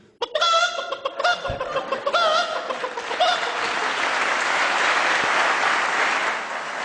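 A voice imitates a hen's excited clucking after laying an egg, a burst of rapid, loud cackles at close range that then gives way to broad applause-like noise.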